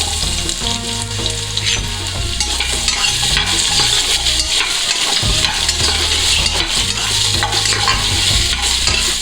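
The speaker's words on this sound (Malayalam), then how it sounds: "ആദ്യം നമുക്കിതിലേക്ക് ഉരുളക്കിഴങ്ങ് ഇട്ടു കൊടുക്കാം" Potatoes tossed into hot coconut oil fry with a loud, continuous crackling sizzle, while a spatula scrapes and stirs them in repeated strokes close by.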